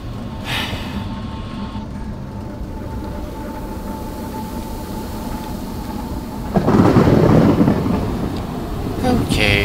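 Thunder during a lightning storm in the horror game Among the Sleep, a low rumbling backdrop that swells into a loud burst partway through, with faint breathy voice sounds.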